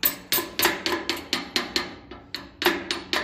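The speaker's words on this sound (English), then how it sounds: "let's give it a little dunt. A hammer" A hammer taps a part on a Massey Ferguson 35 tractor: about a dozen close, crisp metallic blows in a steady rhythm, each ringing briefly, with no talking.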